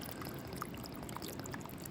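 Water pours steadily into a container to melt honey for an iced coffee, a continuous broadband splash close by with no talking.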